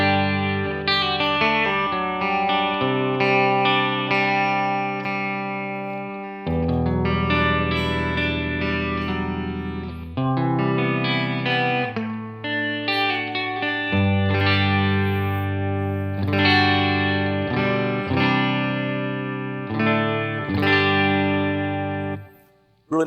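PRS Vela-style electric guitar played through the bridge pickup with the coil split, giving a clean tone: a continuous run of ringing chords and single notes, close and fairly loud, with a brief pause near seven seconds and no voices.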